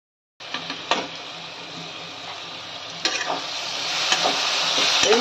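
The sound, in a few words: frying and stirring spices with yogurt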